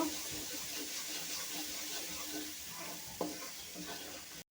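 Coriander powder and spices are sautéed in a pan for a Bengali egg curry with small potatoes, giving a soft, steady frying sizzle with faint stirring scrapes and one sharp tap near the end.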